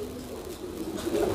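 A kolong pigeon coos softly, low throaty murmurs repeating close by over faint background noise, growing a little stronger toward the end.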